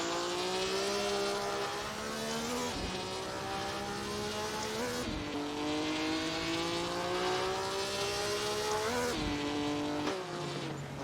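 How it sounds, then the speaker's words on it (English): A 1955 Formula One car in the Assetto Corsa racing game howls through rising and falling engine revs with shifts, its tyres squealing faintly under braking and acceleration, loud and close. "Ascari can hear his tyres squealing every time he accelerates and brakes."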